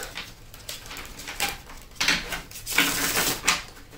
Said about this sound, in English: I'm just going to do a quick shuffle on this deck.